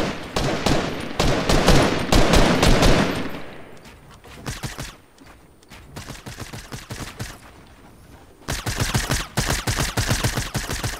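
Fortnite gunfire in a duos match: heavy rapid bursts of automatic shots up close, dropping to quieter scattered shots from farther off before another loud volley breaks out.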